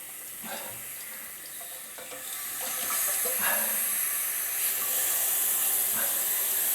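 Water from a toilet fill valve shooting out and splashing during a fill valve replacement, a steady hissing spray that grows louder partway through and stays strong, close by with no talking.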